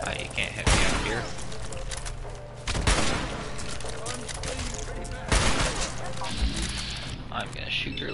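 Gunfire crashes out in Fallout 4's Nuka-World bottling plant, with several loud heavy shots spaced a couple of seconds apart over a constant rumble, while voices talk in between.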